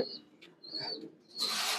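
Pigeons in a large home cage, silver, bezi and pankhi breeds, give faint, brief soft coos with a thin chirp, ending in a short rustling burst.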